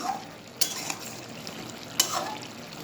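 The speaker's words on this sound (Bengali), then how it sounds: "এবারে ভালো করে মিশিয়ে নিচ্ছি বনের বাটার জলটা ভালো করে মিশিয়ে নিচ্ছি চিকেনের সঙ্গে" Coriander chicken being stirred in a pan with water mixed in, giving a steady close sizzle with two sharp scraping strokes of the spoon against the metal.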